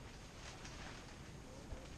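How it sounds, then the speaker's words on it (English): Wind buffets the microphone in a low, steady rumble, faint and continuous for a couple of seconds. "it's got to get windy"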